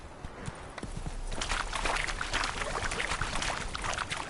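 Hooves of Roach, Geralt's horse in The Witcher 3, clip-clopping in a steady rhythm across ground, moderately loud and continuous with some splashy, watery texture throughout.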